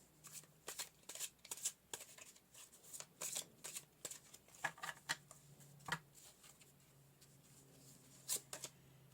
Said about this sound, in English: I'm going to pull another card, though.